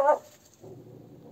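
A small puppy at a caravan in a forest lets out a brief high yip at the start, followed by faint low background rumble.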